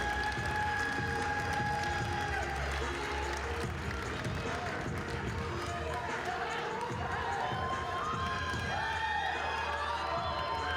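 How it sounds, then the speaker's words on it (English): Crowd applause and cheering fill an arena at the 2023 SAC women's basketball championship game between Lenoir-Rhyne and Anderson, a steady, dense roar under an announcer's voice on the public address system. "A round of applause for a well-played tournament by the Anderson Trojans."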